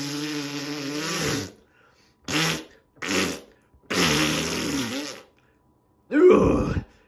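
A series of loud, close fart noises, some drawn out and others short, come in separate bursts with silent gaps between them.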